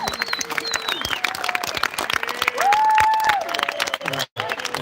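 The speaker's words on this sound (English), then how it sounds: "let's give Speedy a big round of applause for all the years" Audience applause at a disc golf Hall of Fame induction ceremony, a clapping crowd under a speaking voice and scattered cheers, with a sustained whistle-like tone midway before the sound briefly drops out near the end.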